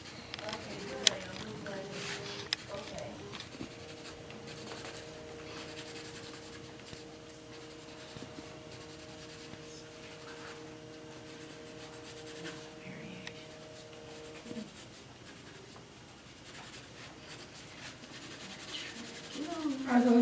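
Regular colored pencils scratch and rub steadily across paper during a drawing demonstration, close and continuous, with a faint tonal hum in the background and people talking quietly at times.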